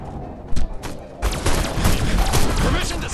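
Bursts of gunfire aimed at a tower in the video game Destroy All Humans, rapid cracks starting sparse and then a dense sustained barrage, loud and close, with scattered game voices mixed in.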